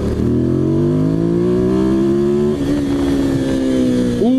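A 2005 Ducati 800 SuperSport motorcycle accelerates hard, its loud, close engine rising in pitch through one gear, dropping briefly at a shift around the midpoint, then climbing again, with no voices.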